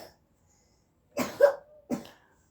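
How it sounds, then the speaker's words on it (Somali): A small child coughs in short bursts at close range: a double cough, then a single cough about half a second later, in an otherwise quiet room. "cunug yar baa qufacaya ilmaha iska hargabsan yihiin"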